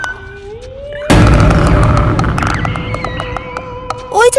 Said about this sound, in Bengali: পিছন থেকে একটা ভারী ভাঙা কাঠের শব্দ আসে। মাটি কাঁপে।